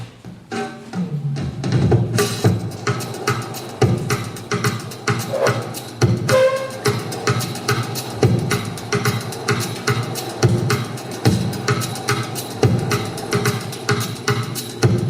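A looping drum groove with punchy kicks and crisp hi-hats drives a music track, steady and upbeat, with layered synth sounds and no voices.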